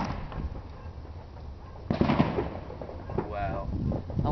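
New Year's Eve fireworks from a hotel waterfront display, heard from a distance as dull booms and crackles that thicken midway, with people's voices faintly mixed in.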